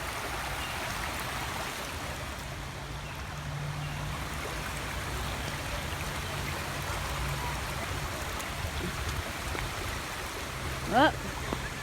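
A small stream flows steadily through a nature walk, giving a continuous broadband water wash close by, with a brief louder splash or voice near the end.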